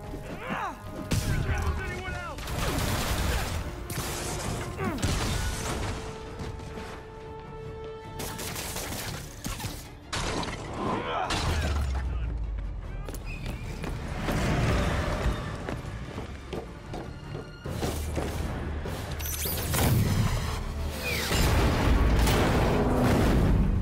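Video game combat from Spider-Man PS4, The Heist DLC: sustained gunfire from miniguns and rocket launchers with booming explosions and mechanical clatter, loud and continuous throughout, with occasional voices mixed in.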